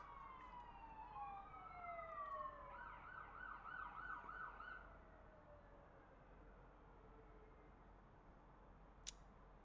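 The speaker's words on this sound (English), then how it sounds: "Lovely sirens all the time," Wailing and yelping sirens sweep up and down over steady traffic rumble, fading out after a few seconds; a single sharp click near the end.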